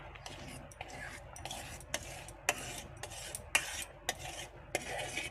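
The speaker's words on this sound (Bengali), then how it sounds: "এটাকে এবার অনবরত নাড়তে হবে" A spoon stirs soaked sago in milk in a pot for a fruit dessert, soft continuous scraping and swirling with repeated light clicks of the spoon against the pot, close and fairly quiet.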